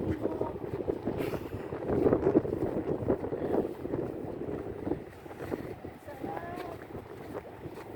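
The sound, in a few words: wind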